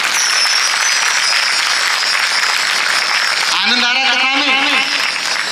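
A crowd at a Bhagwat katha religious discourse claps loudly and continuously, dense steady applause filling the hall, with a voice speaking over it near the end.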